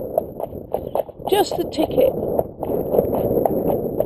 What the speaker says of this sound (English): You can hear a horse going along there